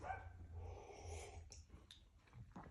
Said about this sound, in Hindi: कुत्ता भौंका बाहर